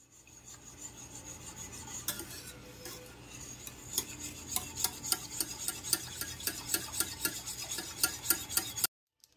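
A lime being cut with a paring knife and squeezed over a pan, heard as steady, rapid scraping and rasping strokes, close and moderately loud, that build and quicken before stopping abruptly.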